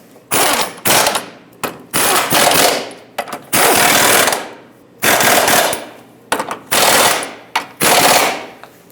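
Impact wrench bursts snugging the control arm mounting bolts on a 2018-2023 Subaru Crosstrek, loud and close, in about eight rapid rattling runs of roughly half a second to a second each, separated by short pauses.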